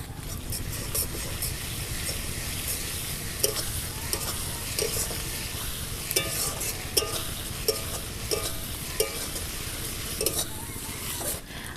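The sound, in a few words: ginger and garlic paste frying in oil for chicken curry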